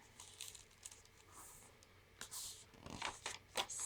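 Sheets of parchment paper handled at a craft desk give soft crinkles and crackles, quiet and close, with a few louder rustling bursts near the end.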